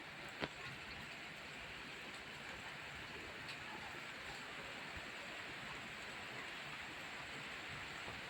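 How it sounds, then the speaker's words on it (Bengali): Rain falls steadily as a heavy shower begins, a faint, even, continuous hiss with a single soft tick early on. "আসছে এবার বৃষ্টি জোরে।"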